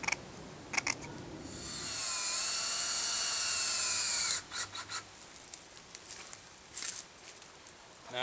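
A power drill whines loud and high while driving truss head screws through screen into a bee trap-out cone on a tree, a steady run of about two seconds followed by short bursts and ticks.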